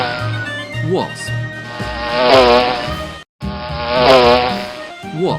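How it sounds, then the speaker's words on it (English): A wasp buzzes in a loud, wavering drone with rising and falling pitch, over a low background tone, with a short break in the middle. "Wasp."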